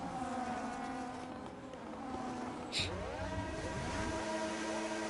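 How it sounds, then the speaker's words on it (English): Simulated race car engine in a racing video game, revving and shifting with gear-grinding strain, a steady droning whine with rising and falling pitch sweeps as cars pass during a lap. "That car does not sound too good right there, Ezo. It's quick grinding those gears"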